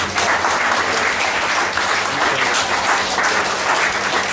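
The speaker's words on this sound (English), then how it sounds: "maybe just give them one last applause and say thanks so much for such a tremendous effort" Loud, sustained applause from a gathered crowd at a eulogy, honoring the rugby players, dense continuous clapping close and filling the room without pause.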